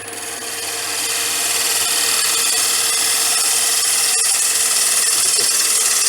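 Wood bowl spinning on a lathe while a turning tool takes a tiny shaving, giving a steady continuous hiss and rasp, fairly loud and close with no gaps.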